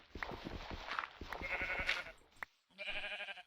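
Several Minecraft sheep bleat in short, nasal cries, clustered close together, then a brief gap before one last bleat.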